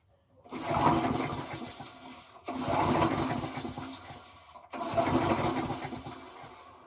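Three separate pull attempts at a primed 3.5 hp Briggs & Stratton small engine on a cold start, each a rough, sputtering burst lasting a couple of seconds before dying off, close by.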